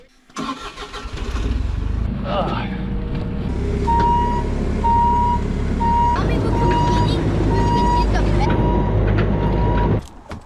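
An excavator being loaded up for return at an off-grid homestead, its engine running steadily throughout with a repeating reversing-style beep pattern over a continuous mechanical drone, close and loud, then cutting off near the end.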